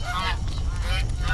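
A honking waterfowl call from a video game, a couple of nasal honks close up over a steady low background hum.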